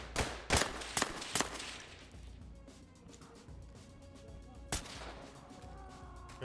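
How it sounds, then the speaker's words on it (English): Gunfire in the tactical shooter game Ready or Not: a quick run of four sharp, loud shots near the start, then a quieter stretch of low rumble before one more close shot near the end. "Oh, I'm getting shot at."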